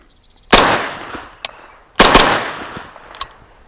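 Grand Power Stribog SP45A3 firing .45 ACP rounds: two sharp, loud shots about a second and a half apart, each followed by a fainter, dull thump.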